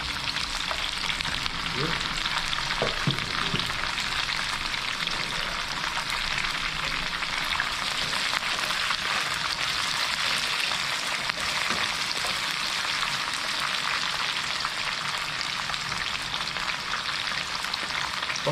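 Sliced firm tofu sizzles and crackles steadily in a hot oiled pan, a continuous close frying hiss with occasional spatters and stirring clinks, one brief spoken word near the start.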